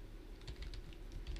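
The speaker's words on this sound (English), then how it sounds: "I can type it out." Someone types quickly on a computer keyboard with soft, close, rapid key clicks over a low steady hum.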